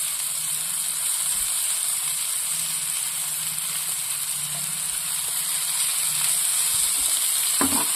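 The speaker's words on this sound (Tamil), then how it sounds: "இப்போ இது நல்லா வதங்கட்டும்" Onions sautéing in a pan make a loud, steady sizzle with a bright hiss over it, and a few stirring knocks come near the end; nobody speaks.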